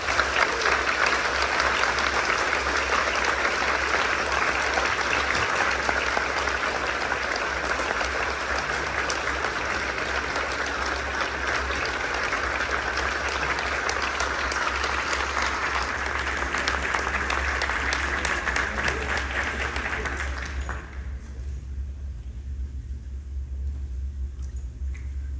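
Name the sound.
audience applause welcoming a speaker at a school concert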